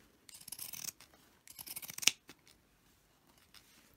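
Scissors snip through material for a homemade shopping cart cover: a few quick, close cutting strokes in separate bursts, the last one sharp and crisp, with quiet pauses between.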